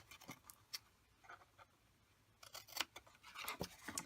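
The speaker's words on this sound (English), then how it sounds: "We're going to cut up to the score line here" Scissors snip through paper card up to a score line, a few crisp, quiet cuts spread across the clip with soft rustling between them, recorded close with no talk.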